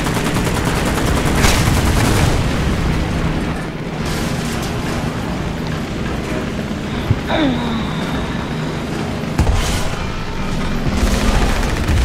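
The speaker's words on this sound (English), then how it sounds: "Oh, I got bombed." Bomb explosions and heavy gunfire in the War Thunder tank battle game, loud continuous rumbling blasts with sharp bursts throughout, under dense battle noise.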